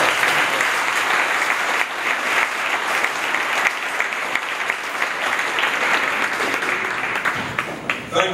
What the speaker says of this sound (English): how about a nice warm applause?